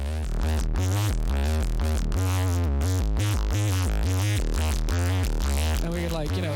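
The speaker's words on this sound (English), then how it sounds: "I'm going to basically distort the living fuck out of the bass itself" Heavily distorted synth bass with sidechain pumping, loud and dense, chopping into short rhythmic pulses across the whole stretch with no talk over it.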